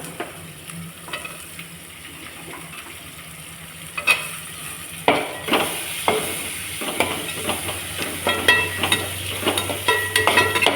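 Garlic goes into a pan of sautéed onions for egg masala gravy: a quiet low sizzle, then a louder burst of frying with quick spatula scrapes and stirring, close and continuing to the end.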